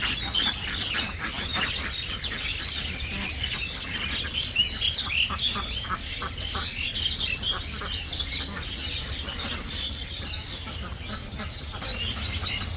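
Ducks kept in an enclosed duck farm under shady trees near a pond make a steady, faint chorus of calls and chirps, heard from a distance against constant background noise.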